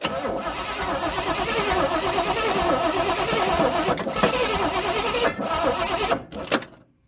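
A 1972 Chevrolet C30 truck, left sitting on a farm for years, cranks and runs roughly for several seconds, loud and close, before stalling and cutting out.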